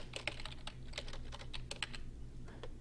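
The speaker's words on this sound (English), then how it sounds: "I forgot to type in the group code." A group code is typed on a computer keyboard in a quiet room, a quick irregular run of soft, close clicks lasting under three seconds.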